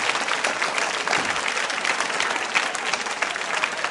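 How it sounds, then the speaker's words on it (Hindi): Steady, dense audience applause at a school quiz show, a loud, continuous wash of many hands clapping throughout with no talk over it. "तालियां जोरों से बजाइए आप"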